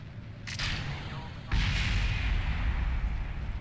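A rocket explosion in the Kerbal Space Program video game, with solid rocket booster and main engine, delivers a sharp crack followed by a loud sustained roaring blast.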